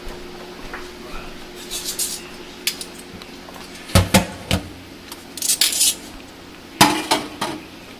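Hot metal canning jar lids handled in a kitchen while making apple butter, scattered sharp clinks and metallic clatters in irregular bursts, close and fairly loud, with quiet gaps between.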